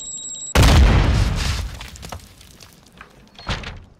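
A Semtex grenade blows up in a video game: after a short warning tone comes a sudden, loud close blast with a long decaying rumble, then smaller debris-like thuds.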